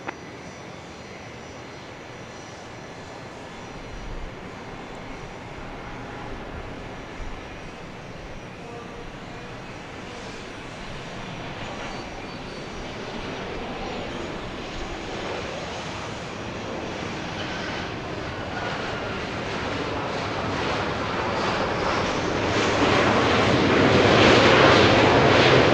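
A Southwest airliner landing on runway 31 left at Dallas Love Field at night roars steadily with jet engine noise, building gradually louder toward the end as it nears, with no voices over it.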